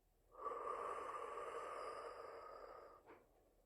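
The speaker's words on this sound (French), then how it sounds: "Inspirez avec moi et soufflez doucement par la bouche" A single slow, gentle exhale through the mouth during a relaxation breathing exercise, soft and close, lasting a few seconds and ending with a brief breathy puff in an otherwise quiet room.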